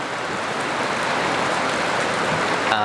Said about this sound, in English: It's raining really, really, really hard.